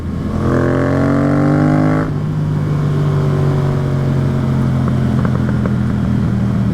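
Yamaha FZ-07 motorcycle engine revs up in a rising rasp, drops off, then idles with a steady low burble broken by small exhaust pops, close and loud with no talking.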